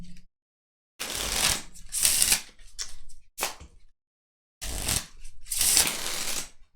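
Playing cards shuffled during a Warhammer Invasion living card game session, in two long riffling bursts separated by a short pause and a few quick taps, close and fairly loud with no talking.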